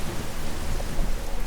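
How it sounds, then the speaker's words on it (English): A storm of steady, dense rainfall hisses throughout, with a low continuous rumble of thunder underneath, and a brighter burst of rain noise swells right at the end. "What a storm!"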